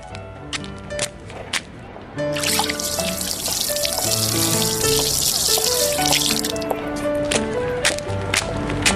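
Water poured into a small container for a kitten, a steady splashing trickle that swells louder partway through and continues, with light clatter and faint sounds of people around.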